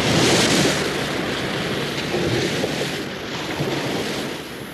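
Ocean waves wash onto a beach under gusting wind, a steady full surf roar with gentle swells and no voices, used as a background effect in an audio story.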